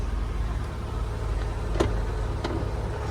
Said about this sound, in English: Engine runs nice and smooth